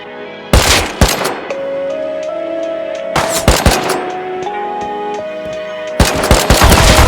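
Automatic gunfire in the survival game Rust, with three sharp, loud volleys separated by pauses and a steady held tone underneath. No voices.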